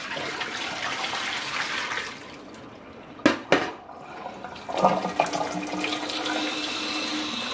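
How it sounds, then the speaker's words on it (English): Liquid poured from a container into a sink while preparing smoked herring: a broad rushing splash, then a couple of sharp knocks and a trickling, gurgling drain-off, close and moderately loud, with no talking. "Now I'm going to pour this out into the sink"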